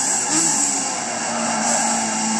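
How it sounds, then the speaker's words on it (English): Race car braking hard into a high-grip corner, tyres squealing in sustained high-pitched tones over a constant loud engine roar, with no voices. "There is a fair bit of tyre squealing going off there"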